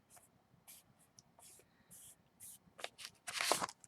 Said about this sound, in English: let me go ahead and rip these open